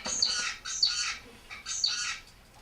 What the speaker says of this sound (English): Here is a song of an isolated zebrafinch.